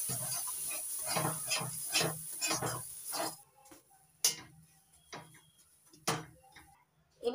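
A spoon works through a pea paste filling mixed with spices in a pan, making a run of rhythmic scraping strokes. A few sparse, separate clicks and taps follow in quieter air.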